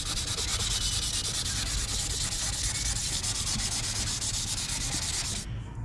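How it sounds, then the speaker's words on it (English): Continuous rhythmic scratching of sandpaper rubbed back and forth by hand on a painted surface, close and steady, stopping just before the end. "I'm literally just sanding this, filling it out, sanding it, filling it out."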